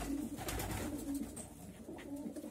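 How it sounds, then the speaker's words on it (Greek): Several pigeons coo softly in a loft, low repeated throaty coos drifting in and out at moderate distance over faint rustling background, with no talk. "Τι όμορφα περιστέρια."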